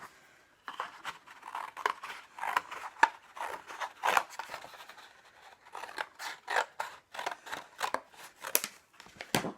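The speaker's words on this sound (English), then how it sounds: "So I get another little square there to cut out." Scissors snipping out a small paper square, a close, quiet run of quick, crisp cuts in irregular bursts with short pauses between, no talking.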